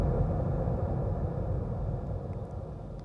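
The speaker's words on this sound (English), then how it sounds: "creating custom kick impacts by resampling the kick" A resampled kick drum turned into a dark, heavily reverberated impact: a dense, low rumbling wash that starts at full strength and slowly fades over about three seconds, with no other sounds.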